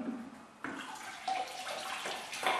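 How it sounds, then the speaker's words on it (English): A paint roller sleeve on its cage is dipped and rinsed in a bucket of water, giving close sloshing and splashing in several bursts, with no talk. "we want to dip the roller sleeve on the cage right into the first bucket of water"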